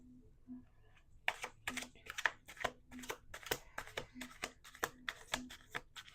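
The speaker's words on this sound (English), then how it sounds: "2 more shuffles." A deck of tarot cards is shuffled close up in quick riffling bursts, about a dozen sharp crisp flutters in a quiet room, with a faint soft voice between them.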